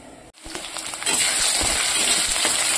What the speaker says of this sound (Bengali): তো আলুটা বসিয়ে দিয়েছি ভাজার জন্য। আলুটাকে একটু লাল লাল করে ভেজে নেব।